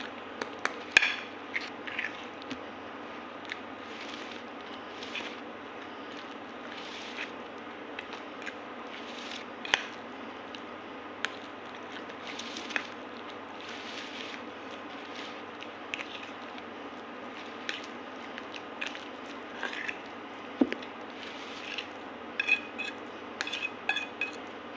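An eggplant and sardine fishball mixture is stirred in a bowl, giving faint, soft mushy churning broken by scattered sharp clinks of a spoon against the bowl.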